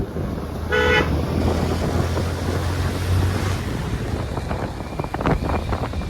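Motorbike travel through the countryside, with loud steady wind roar buffeting the microphone throughout, a brief horn toot near the start and a low engine hum underneath.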